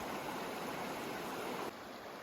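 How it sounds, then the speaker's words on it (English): A creek rushing over a trail crossing in Kings Canyon, where a washed-out bridge once stood, gives a steady, close broadband roar of flowing water that eases slightly near the end, with no voices. "There's a creek crossing."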